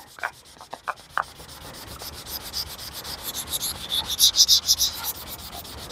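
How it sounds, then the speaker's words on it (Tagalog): Sandpaper rubbed by hand across a car body before priming, a steady scratchy rasping in rhythmic strokes that grows louder toward the end, with a few sharp knocks near the start and no talking. "Liha-liha ta ni kuskus ta ni."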